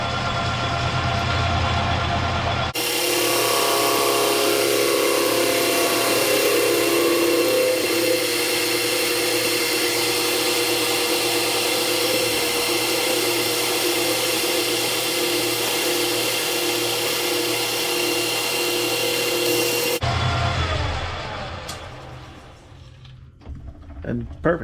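A metal-cutting pass on a lathe machines the starter/generator pulley for a 1976 Harley-Davidson golf cart. After a short lead-in, a loud, steady grinding whine runs unbroken for about seventeen seconds, then stops abruptly, leaving faint clatter.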